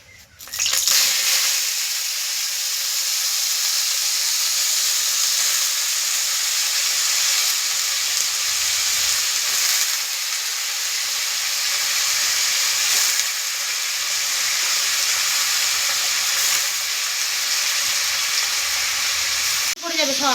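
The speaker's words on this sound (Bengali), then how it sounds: "আলু ভাজাটা চাপিয়ে দেবো, পরোটা দিয়ে খাবো।" Potatoes fry in a wok with a loud, continuous, close sizzle and hiss that runs unbroken for about twenty seconds, with occasional faint stirring.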